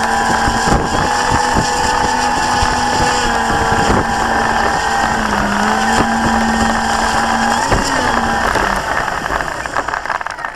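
An RC CZ T-28C model airplane swinging a three-bladed Bali vari-pitch prop flies past at sunset, a loud, buzzing electric motor whine that holds steady with brief pitch dips before fading at the end.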